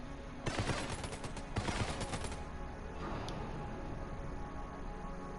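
Short bursts of weapon fire from a gun in the roguelike shooter Enter the Gungeon, two rapid volleys close together early on, then quieter game ambience with a faint single shot.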